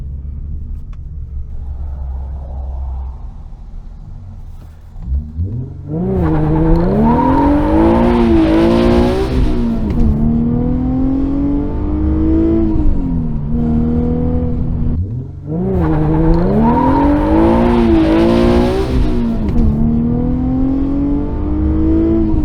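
A Nissan 350Z/370Z or Infiniti G35/G37 sports car with a stiffened rear end accelerates hard through a U-turn. The close engine roar climbs in pitch twice, with a brief lift off the throttle between the two pulls.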